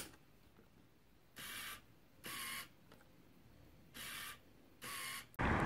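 EW-60C lens hood fitted onto a Canon 18-55mm kit lens: four short broadband scraping-clicking bursts of mechanical twisting, evenly spaced and close, over a quiet background, ending in a louder final click.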